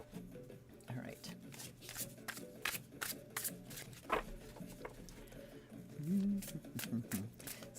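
A stiff tarot deck is shuffled by hand in repeated short riffling bursts, a rustling, slapping patter, close up, with a voice speaking briefly.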